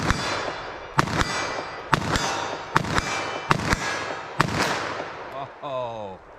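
.357 Magnum revolver firing at an outdoor range: six sharp, loud shots roughly one second apart, each ringing briefly, followed by a short spoken remark at the end.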